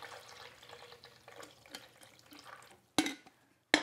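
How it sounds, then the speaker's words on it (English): Water pours and trickles into a coffee maker in a quiet room, a soft uneven splashing that ends with two sharp clacks of plastic, no voices. "Pour water into the coffee maker."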